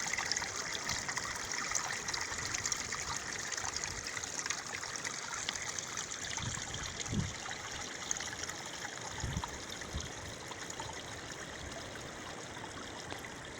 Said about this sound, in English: A lot of water comes down towards the River Pedran at the bottom